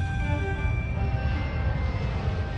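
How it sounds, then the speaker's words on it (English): Low, droning engine roar of a low-flying Korean Air cargo jet passing overhead, a steady heavy rumble with faint tonal whine, moderately loud throughout with no voices. "I heard the noise of the plane coming over"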